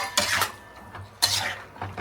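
A spoon stirring chicken fry with onions and salt in a metal pan, heard as a few scraping, clinking strokes against the pan, close and alone, with short pauses between them.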